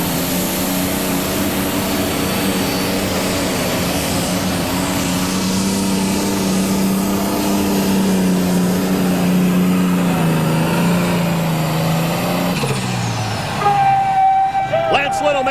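A John Deere 7810 pro stock pulling tractor, nicknamed Gangrene, roars loudly and steadily at a tractor pull in Bowling Green, Ohio, its engine note rising and holding before cutting off near the end.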